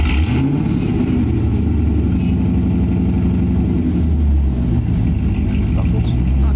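A Chevrolet Corvette C4 from the 1980s fires up close by, its engine settling into a loud, steady rumble with rising revs, while a voice speaks over it.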